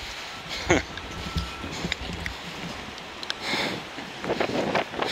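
Strong storm wind blows outdoors in the Netherlands, a loud continuous roar and buffeting against the microphone with rising gusts.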